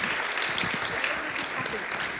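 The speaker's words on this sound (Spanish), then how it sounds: "Le damos un pequeño aplauso y gracias por haber venido" Audience applause for a speaker at a talk on gender violence at a school, with dense steady clapping throughout and some voices mixed in.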